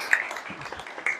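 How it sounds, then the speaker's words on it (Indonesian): Clapping in a classroom, a short, busy patter of hands with a couple of sharper claps, mixed with faint voices underneath. "Baik, saya tepuk tangan."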